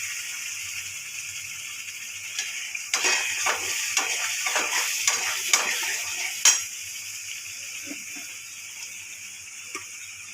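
A spoon scrapes and clinks against a pan as a cooked-down spice masala is stirred before the chicken goes in for Korean-style spicy chicken, with a soft sizzle underneath and a few sharp taps near the end.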